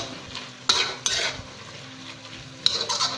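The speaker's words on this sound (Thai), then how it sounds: "ใส่ ใบกะเพรานะครับ ลงไปเลยนะครับ เพื่อเพิ่มความหอมนะครับ ใบกะเพรา จากนั้นก็ผัดให้เข้ากันเลยครับ" Minced pork, banana blossom and holy basil leaves being stir-fried together in a pan, with a few sharp spatula scrapes and clanks over a low continuous sizzle, close and without speech.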